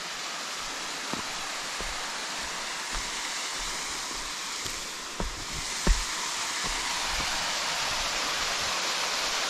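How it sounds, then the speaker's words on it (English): A small waterfall beside a mountain hiking trail in autumn, heard as a constant broad rushing hiss of falling water, steady and fairly loud, with a few faint clicks and steps passing over it and no voices. "we're gonna see this waterfall in the daylight."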